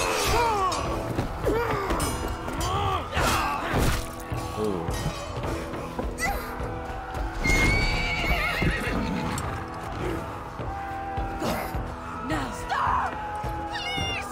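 A horse in the video game Assassin's Creed Valhalla neighs and whinnies repeatedly over clip-clopping hooves, mixed with other game sounds at a moderate level throughout.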